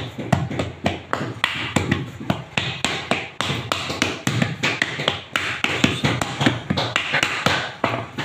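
Wooden paddle beating the wall of a drying, hardened clay matka pot by hand, a fast, steady run of loud, sharp close thwacks with little pause between strokes.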